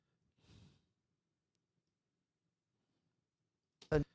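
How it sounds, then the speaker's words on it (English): Isolated breaths on a lead vocal recording for an R&B mix: a soft, short inhale early on, then a long silence, and a louder, sharper intake near the end. "There's a breath there."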